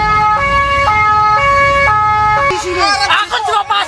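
An ambulance siren wails in a rapid two-tone pattern, loud and close, then breaks into a warbling sweep amid crowd noise near a truck drivers' protest in Karanganyar, Central Java.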